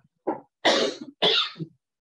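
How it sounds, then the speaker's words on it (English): A person coughs three times in a quick burst, the first short and the next two harsher and fuller, close up and clear, during a lecture on flow cytometry. "why I've got this nagging cough here"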